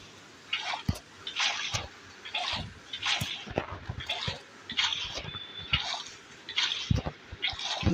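Water placed from a bucket and flowing in Minecraft, a series of splashy pours and drips recurring roughly every half second to second, with soft clicks between, close and moderately loud with no talk.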